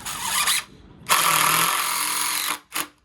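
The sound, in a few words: power drill driving 3-inch construction screws into wood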